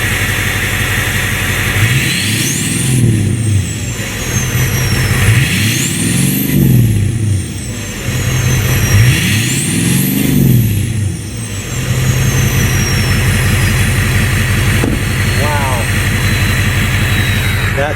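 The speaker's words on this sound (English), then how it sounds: "Not only can you hear a lot more turbine or turbo spool, it just sounds really good." Three loud revs from a Ford Powerstroke 6.0 diesel truck with an upgraded exhaust, each rising and falling with a sharp turbo spool whistle over the steady idle rumble, heard up close.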